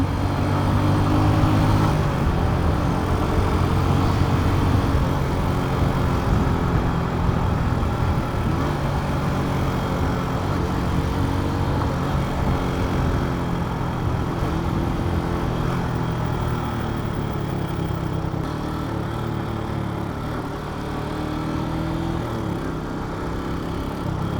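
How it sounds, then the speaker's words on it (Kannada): A Suzuki Gixxer 150 motorcycle engine running at a smooth, steady idle nearby, an even low hum with no revving and no talk. "ಇಂಜಿನ್ ಮಾತ್ರ ಹೆವಿ ಸ್ಮೂತಾಗಿದೆ. ಸೌಂಡ್ ಕೇಳಿಸ್ಕೊಳ್ಳಿ"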